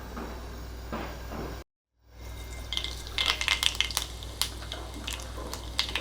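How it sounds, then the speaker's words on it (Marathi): Hot oil sizzles as mustard seeds start crackling, a brief gap then scattered sharp pops building over steady frying hiss. "मोहरी टाकले मोहरी छान तडतडली की जिरं"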